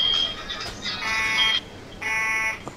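Fire alarm in the Emergency 4 game with the Mayberry mod, a steady electronic buzzing tone that pulses in two long bursts over a constant background hiss.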